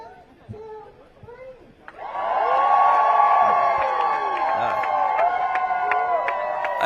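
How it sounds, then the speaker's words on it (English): A protest crowd outside Coast Guard Island in Alameda erupts into loud, sustained cheering and whooping after quieter murmuring, with voices shouting across the noisy throng. "Another uproar cheer."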